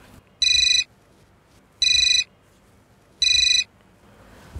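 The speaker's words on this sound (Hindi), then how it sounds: "अरे यार विकास सर का फ़ोन आ रहा है" A phone ringtone sounds three times in evenly spaced bursts, each under half a second, loud and bright against a quiet room with no talking.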